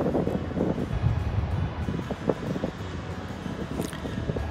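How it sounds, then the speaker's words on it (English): Wind buffets a microphone at the beach, a continuous low rumbling roar with gusty swells and a faint hint of surf beneath. "you really have to face the wind like this in order not to have terrible noise"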